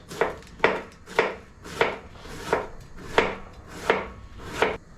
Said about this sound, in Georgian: შევეცადოთ, რომ მაქსიმალურად წვრილად დავჭრათ